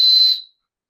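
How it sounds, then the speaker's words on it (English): A survival kit whistle on the end of a replaceable ferro rod gives one short, piercing, very loud blast close up, then cuts off into silence. "a whistle on the end"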